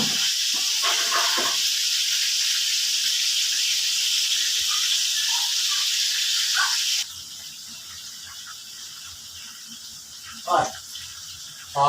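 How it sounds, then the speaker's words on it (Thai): Fermented pork ribs fry in hot oil over medium heat, a steady bright sizzle that drops to a quieter bubbling hiss midway, with brief clatters near the end. "ทอดไฟกลางๆพี่น้องไฟอ่อนกลางๆอ่ะ"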